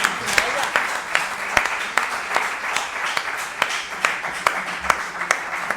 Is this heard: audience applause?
yes